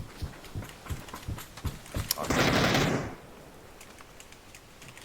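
Rapid automatic gunfire from inside a house in PUBG (Battlegrounds) keeps cracking in a steady rhythm, with a dense, louder roar of shots around the middle before the pops thin out again.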